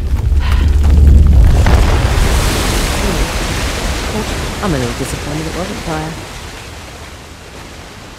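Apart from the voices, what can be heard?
waterfall in video game Uncharted: The Lost Legacy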